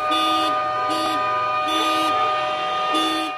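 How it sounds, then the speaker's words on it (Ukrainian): Car horns blare from a convoy of more than a hundred taxis driving through the city centre of Lviv in protest, with a continuous wall of honking and louder blasts pulsing every second or so. "Більше сотні машин із шашечками проїхали центром міста з увімкнутими клаксонами."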